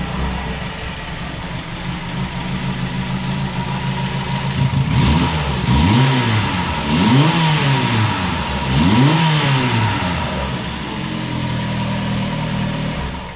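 A Honda engine running after a timing chain repair: a steady idle, then three quick revs that rise and fall in a row before it settles back to idle, loud and close, with no talking.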